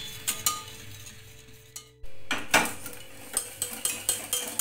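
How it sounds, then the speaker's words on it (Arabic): A utensil stirs melting sugar and milk in a pot, giving irregular metallic clinks and scrapes against the pot's sides over a soft, steady background hiss. "غادي نحاول كنحركو باش هذاك اللي الفوق كيهبط لتحت"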